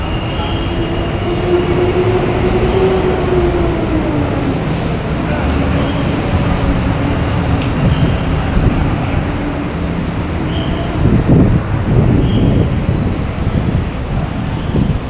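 A Manila MRT metro train rumbles past loudly and steadily, its wheels droning and faintly squealing, with traffic noise in the background.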